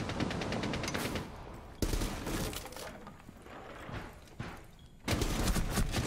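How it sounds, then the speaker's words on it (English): Loud bursts of automatic gunfire from Frost in Rainbow Six Siege, one sustained volley, another after a short pause, then a final burst after quieter rumbling, all close and forceful. "This Frost was shooting at something, but I wasn't sure what."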